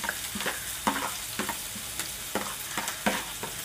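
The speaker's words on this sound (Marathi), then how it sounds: "तेल गरम झालं आहे, त्यात आपण हा कांदा कापलेला घालून घेऊया." Finely chopped onion fries in hot oil in a pan for a Marathi okra fry; a steady sizzle runs throughout, broken by a regular series of sharp spoon scrapes and taps as it is stirred.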